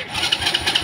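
A motorcycle's electric starter motor cranks in a short, dense whirring burst with rapid pulsing, heard up close and alone.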